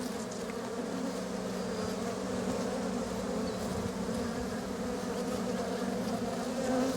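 A honeybee hums close by near an open hive, a steady, continuous buzz that holds at even loudness throughout without pause, with no voices over it.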